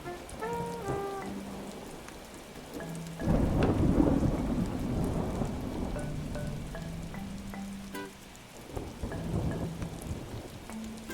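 Thunderstorm on an island in a video game: rain pours steadily while a heavy thunder rumble swells and fades, later followed by a second roll, with bright game chimes and melodic blips scattered over it.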